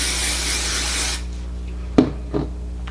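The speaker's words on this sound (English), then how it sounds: "so now I'm gonna spray this half as well." A sharp aerosol hiss of hairspray on hair being curled with a wand lasts about a second, then fades to quiet with a couple of small clicks and a low background hum.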